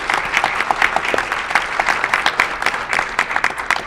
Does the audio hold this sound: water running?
no